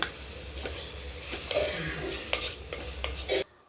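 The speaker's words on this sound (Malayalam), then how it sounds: "ഉള്ളി നന്നായിട്ട് തന്നെ വഴറ്റിയെടുക്കുക ഉള്ളി വഴറ്റുമ്പോൾ കുറച്ച് ഉപ്പും കൂടി ഇട്ട് കൊടുക്കുക" Onions sautéed with salt in a pan give a soft continuous sizzle, with repeated scraping and clinks of a spoon stirring against the pan, close and steady until the sound cuts off at the end.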